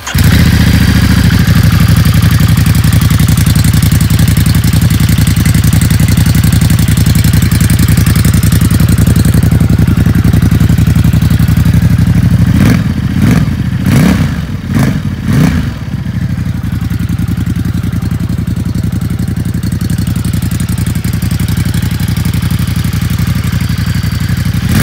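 A Ducati XDiavel with a Termignoni exhaust and a dB killer fitted starts up and idles loud and close, holding a steady deep rumble with a brief stuttering blip of revs partway through.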